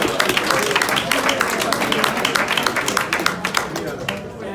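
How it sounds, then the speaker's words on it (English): An audience applauds members of a legislative Black Caucus at a NAACP day at the Capitol, a dense burst of clapping that swells and then thins out over a few seconds. "Let's give the members of our legislative Black Caucus a round of applause"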